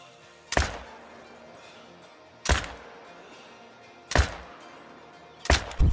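Four sharp rifle shots ring out at black bears while hunting in Call of the Wild, evenly spaced seconds apart, each a punchy crack that decays quickly into a quiet outdoor backdrop.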